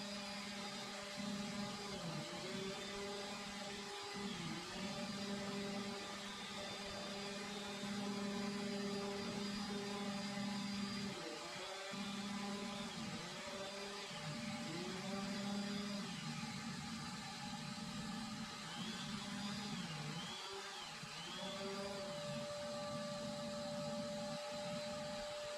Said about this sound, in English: I do go in here in a minute and use my orbital sander because it's so much quicker